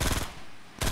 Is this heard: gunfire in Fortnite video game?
yes